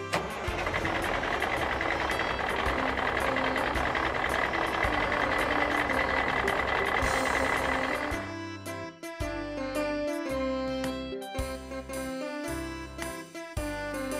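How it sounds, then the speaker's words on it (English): Fire department trailer truck idling with a rumbling engine and repeated electronic reversing beeps, then giving way to a bright jingly tinkling tune in the second half. "Fire department trailer truck."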